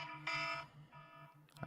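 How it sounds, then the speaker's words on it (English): An alarm sounds at the close of a talk show, with a steady buzzing tone repeating in pulses and a brighter ringing burst layered over it, fairly loud and close with no talking. "That's how you end the show with the alarm."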